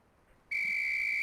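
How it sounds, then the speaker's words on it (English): A single sharp whistle blast in an FMV SWAT shooter game starts abruptly after a short quiet moment and holds as a bright, steady, piercing tone until the end. "On the whistle."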